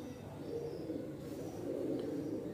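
Soft, low pigeon cooing murmurs continuously close by against a quiet background.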